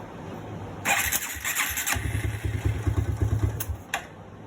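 A 1999 Suzuki King Quad 300 ATV engine starting after a starter replacement: a whirring starter crank, then the motor catches and settles into a close, rhythmic, chugging idle.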